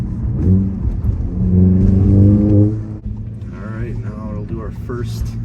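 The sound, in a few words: VW MK7 GTI with Borla S-Type exhaust accelerating in first gear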